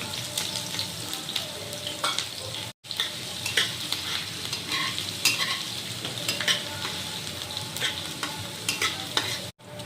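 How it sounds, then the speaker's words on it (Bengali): Steady close sizzling of chopped green chillies and ginger frying in oil, with stirring scrapes over the constant hiss and a couple of brief dropouts. "আর এটা ততক্ষণই ভাজবো যতক্ষণ আদা থেকে কাঁচা গন্ধটা না চলে যায়"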